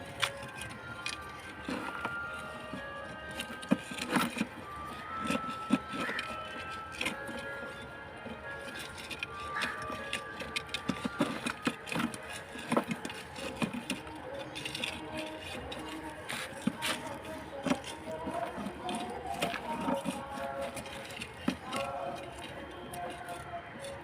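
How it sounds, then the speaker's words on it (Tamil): A stick spreads loose soil evenly inside a flower pot, making faint, continuous, irregular scratching and gritty clicks close by. "இனிமேல் அந்த மண்ணை ஈவனாக உள்ளே அந்த தொட்டிக்குள்ளே ஒரு குச்சை விட்டு பரப்பி விடணும்"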